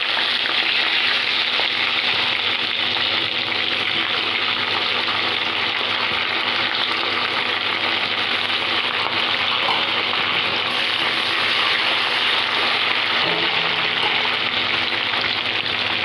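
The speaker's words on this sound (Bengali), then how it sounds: "রসুন কুচিটাকে আমি একটু হালকা করে ফ্রাই করে নেব।" Chopped garlic and diced onion fry in a pan for chilli paneer, giving a continuous loud, even sizzle that runs the whole length with no voices.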